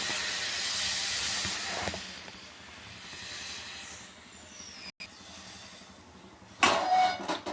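Steam from a pressure cooker on a kitchen stove while khichdi cooks, heard as a steady broad hiss that fades midway, then a sharper, louder burst of venting hiss near the end, with no talk.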